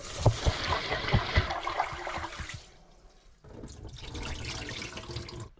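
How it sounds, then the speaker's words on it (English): Tap water runs steadily while rice is rinsed in a pot for cooking with river eel, with splashing and grain agitation at first, then a softer, steadier flow after a short pause. "So what you're doing with that process is obviously you're washing the rice"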